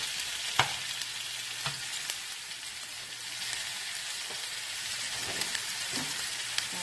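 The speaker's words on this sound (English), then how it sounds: "I'm going to let my meat brown a little bit, and then I'll add my onions" Ground meat browns in a pan for a Big Mac salad, giving a steady, soft sizzle with occasional faint pops and scrapes, fairly quiet and without any voices.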